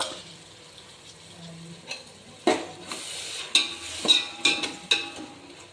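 Tamarind gojju simmering in oil in a pan, a low sizzle beneath repeated sharp scrapes and knocks of a spoon stirring against the pan, growing busier and louder in the second half.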